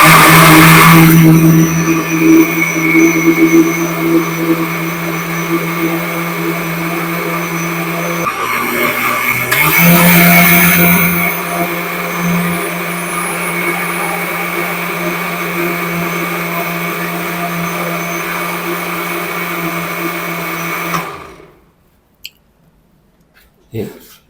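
Juicer blender whirring loudly at high speed while blending peaches into juice, a steady motor roar with a short dip midway before it cuts off near the end.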